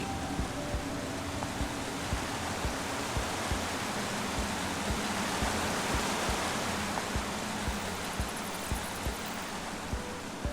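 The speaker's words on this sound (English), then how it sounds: "I first met Ruben near a waterfall like this." A video game waterfall roars as a steady, full rushing wash of water, with faint regular soft thumps beneath it, continuous and close throughout.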